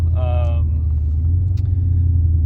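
A Dodge Challenger Scat Pack widebody with headers running on E85 while driving, producing a steady, deep low rumble heard from inside the car, with a brief voice at the start.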